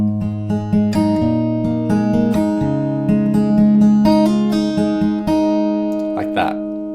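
Acoustic guitar fingerpicking pattern for a song, played with hammer-ons and pull-offs in a flowing arpeggio over ringing strings, close and clear throughout.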